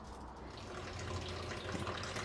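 Tap water runs steadily into a sink as a cast iron pan is washed with soap, a soft continuous splashing hiss heard close and alone for a couple of seconds.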